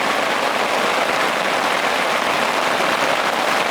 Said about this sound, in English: So it's pouring down rain here right now